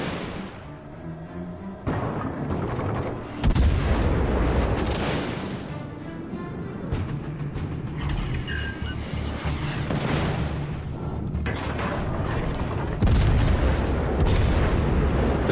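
Naval guns of the cruiser Roon firing in World of Warships Legends: a string of heavy, booming salvos at uneven intervals over a constant rumbling battle backdrop, loud and close.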